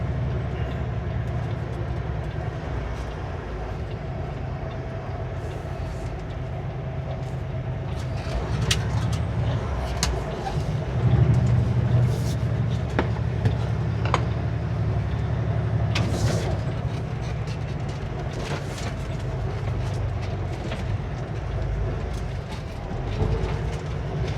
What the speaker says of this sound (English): I'm going to park pretty far forward so that the next truck has an easier time making this corner.